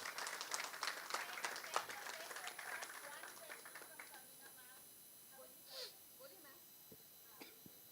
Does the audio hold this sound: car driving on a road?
no